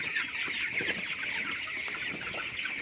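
A flock of 18-day-old broiler chickens on a poultry farm, some of them sick, makes continuous soft clucking and chattering over a steady farm hum, several birds close together with no talking.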